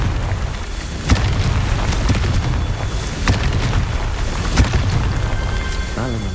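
Fiery spell blasts in Hogwarts Legacy boom out several times, sharp loud bursts at irregular intervals over a steady rumbling game background, with no talk.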